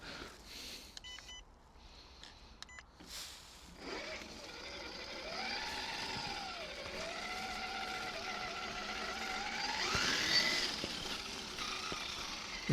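An LC80 car accelerating in second gear gives a steady, close motor whine that wavers in pitch and swells louder near the end, after a few short beeps at the start.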